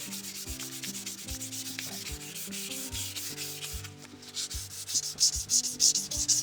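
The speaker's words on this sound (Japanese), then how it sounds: "でまだ濡れてる状態の時に、耐水ペーパーですね。 これは400番です。" A wooden window frame is wet sanded by hand with 400-grit waterproof sandpaper while Watco oil is still wet. The rubbing strokes come in a steady back-and-forth rhythm, close and fairly quiet, with no voices.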